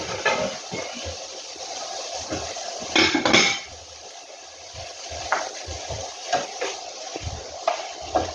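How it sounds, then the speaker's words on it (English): A lid is set on a pot of cooking red lentil daal, giving a bright metallic clatter and clink near the middle, amid scattered lighter kitchen taps and utensil knocks nearby. "Let me get the lid for that."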